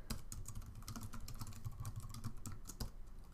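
Rapid, steady keystrokes on a computer keyboard while typing into a word processor, close but quiet clicking in a continuous run with no talking.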